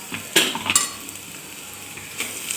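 Ground green chili and spice paste for green pea rice frying in hot oil, a steady soft sizzle with a few sharp scraping stirs of a spoon against the pan near the start.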